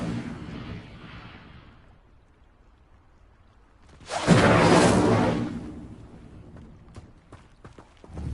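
Incendio fire spell cast in Hogwarts Legacy, a sudden bright roaring burst of flame that flares loudly for about a second and a half, then dies away into faint crackles.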